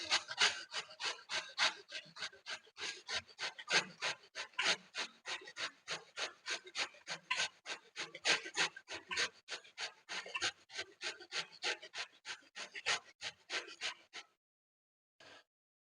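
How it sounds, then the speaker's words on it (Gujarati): Bottle gourd is scraped against a hand grater for halwa, a steady series of rapid, close rasping strokes in a regular back-and-forth rhythm, stopping near the end. "હવે આપણે દૂધી છીણી લઈશું"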